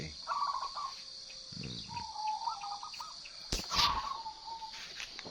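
Soft, rolling zebra dove coos repeat a few times over a steady chorus of crickets at dawn, around 5:30 a.m., with a sharp knock partway through.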